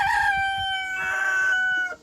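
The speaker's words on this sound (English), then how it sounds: "So the chickens roost up here, as you can see." A rooster crows loudly and close, a long drawn-out call with a clucking undertone, ending abruptly.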